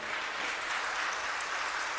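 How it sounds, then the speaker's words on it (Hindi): Weak, half-hearted applause from an audience at a spiritual discourse, a thin steady patter of scattered claps sustained throughout without building up. "ताली मरी मराई बजी है।"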